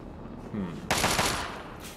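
A burst of rapid automatic gunfire erupts in a post-apocalyptic wasteland video game, with a short tonal in-game sound just before the loud sustained volley.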